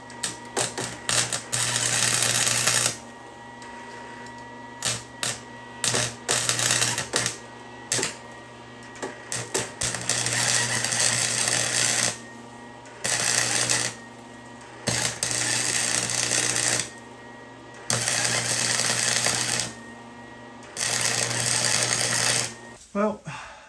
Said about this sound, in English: So I'm gonna go ahead and weld this up.